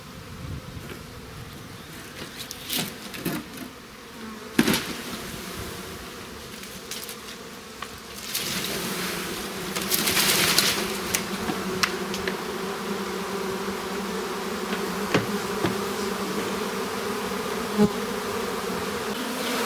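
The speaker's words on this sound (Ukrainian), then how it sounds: "туди ще перелітає велика кількість бджіл" A honey bee swarm flies into a box from a log hive, a dense, steady buzzing hum of many bees that swells and holds throughout, close and loud, with occasional brief knocks and no talk.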